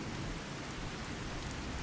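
A rainstorm in the video game Fallout 4 hisses as a dense, even wash of falling rain, steady and enveloping with no voices.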